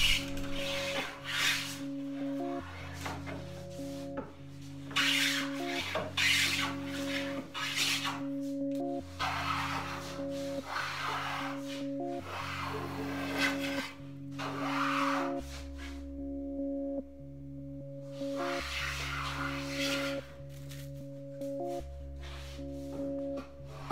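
A No. 8 hand plane shaving a walnut edge, repeated long rasping strokes in a steady rhythm, close and clear, over soft background music.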